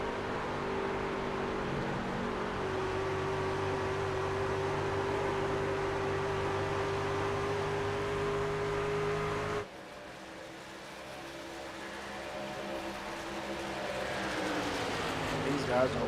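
Racing trucks in a truck series race roar down the front stretch as a dense, steady engine drone that drops abruptly partway through, then builds again, with a commentator talking over it.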